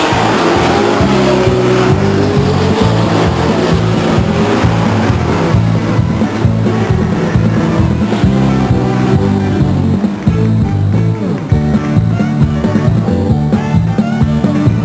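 A loud race car engine roars and revs continuously as the car passes the grandstands at Stockton 99 Speedway, close and dominant, with crowd and track noise mixed underneath.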